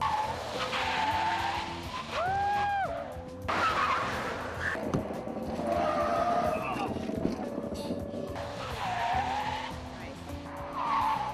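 A car braking hard at maximum pressure on an emergency vehicle operations course, tires squealing and skidding repeatedly with a loud engine, and a voice talking over parts of it.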